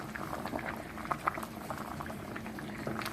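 Rainbow spaghetti boils in a pot of water while being stirred, with a steady bubbling and hissing broken by a couple of brief sharper clinks.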